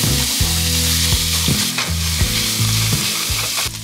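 Meat for tacos fries and browns in a pan, giving a dense steady sizzle with a low humming drone underneath and occasional stirring knocks, close up and with no talk.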